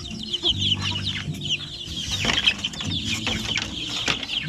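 Two-month-old Sampin stag chickens cluck and call repeatedly at close range on a farm, with overlapping bird voices and faint mechanical noise behind them.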